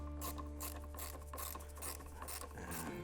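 A ratcheting tool rapidly tightens bolts on a SYM Symphony ST200 scooter, making quick repeated clicking strokes over a steady low hum, close and fairly loud throughout.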